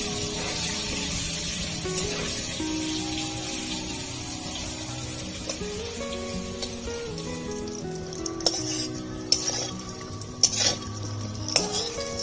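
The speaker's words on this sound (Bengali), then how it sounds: "আলুগুলো ভাজা হয়ে গেছে, তুলে নেব।" Potatoes sizzle and fry steadily in a pan while cooking for a mutton curry, with scraping stirs and metallic clinks of a utensil against the pan growing busier toward the end.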